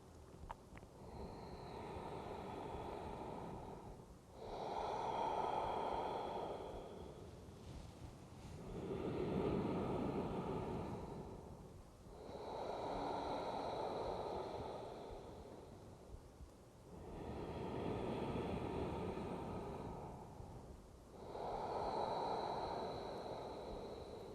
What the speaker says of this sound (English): Listening to the inhalation. And listening to the exhale.